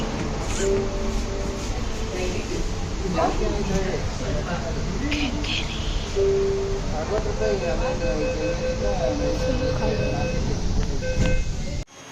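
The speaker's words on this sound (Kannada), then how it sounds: "ಮೆಟ್ರೋ ಬಂತು ಇದೇ ಮೆಟ್ರೋ ತಾನೇ" A metro train pulls into the station with a steady rumbling roar, whining tones and a few chime-like notes, while people talk nearby over the noise.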